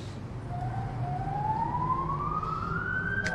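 Ambulance siren wailing during the earthquake response in Pazarcık, Kahramanmaraş: one slow tone rising steadily in pitch, heard from some distance over a steady road-traffic rumble, with no voices.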